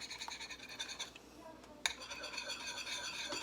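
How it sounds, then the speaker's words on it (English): A whisk scrapes rhythmically against a pan, working cornstarch into a lemon chicken sauce with quick, close, scratchy strokes that pause briefly midway, then resume. "I'm just going to whisk that in so it doesn't clump"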